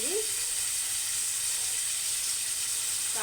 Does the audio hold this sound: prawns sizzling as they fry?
yes